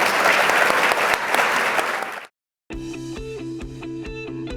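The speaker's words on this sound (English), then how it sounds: "Would you give our amazing panelists a round of applause?" A live audience applauds panelists at a Computer History Museum panel event with dense, loud clapping for about two seconds. The applause stops abruptly, followed by a brief silence and then a music track.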